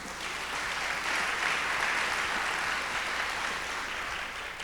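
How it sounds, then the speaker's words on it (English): An audience at a Juneteenth celebration honoring Opal Lee applauds steadily, a dense, even wash of clapping that continues throughout with no speech. "Another round of applause."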